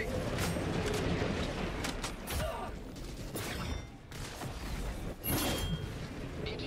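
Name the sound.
gun reloading in a video game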